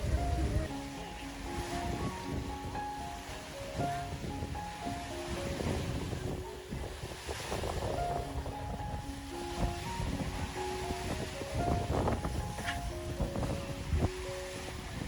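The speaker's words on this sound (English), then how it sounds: "you could see wind sweeping across the surface, waves dancing" Stormy wind and waves on Lake Geneva, a continuous rough wash of surf with gusting wind buffeting the microphone, punctuated by a faint melodic tone pattern in the background.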